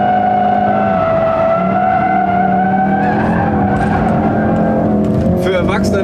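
A 2016 Ford Focus RS with a 350 PS engine drifts sideways at about 120 km/h, its engine roaring loudly and its tires squealing, while people talk inside the car.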